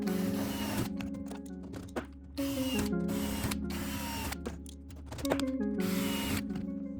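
A power drill whines in repeated bursts, transfer drilling holes in aircraft tailcone parts, spinning up, running steadily, then stopping, over and over at close range.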